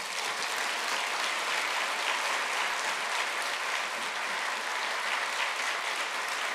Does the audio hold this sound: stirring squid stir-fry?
no